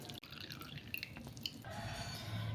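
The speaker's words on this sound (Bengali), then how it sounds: "এইভাবে চেপে চেপে পেঁপে থেকে অতিরিক্ত জলটা আমি বের করে দিচ্ছি।" Boiled grated raw papaya squeezed by hand to press out the extra water, giving close, steady dripping and trickling liquid with soft wet squelches and no talking.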